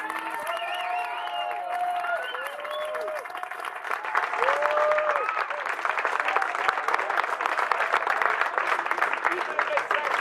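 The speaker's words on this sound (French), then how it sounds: "on peut encore l'applaudir" A crowd at a street demonstration applauds a speaker with sustained clapping that swells and continues throughout, mixed with scattered cheers and voices.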